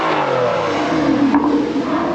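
A car engine, seen around an Aston Martin gathering, revs briefly through its exhaust with a loud, steady throaty roar that swells for a moment and then settles.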